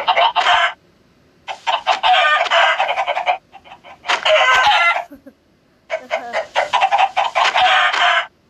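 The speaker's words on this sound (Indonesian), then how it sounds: "Jadi guys, banyak ayam." Chickens cluck and a rooster crows in several loud bursts separated by short pauses, close by, with no voices.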